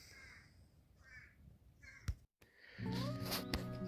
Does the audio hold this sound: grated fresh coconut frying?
no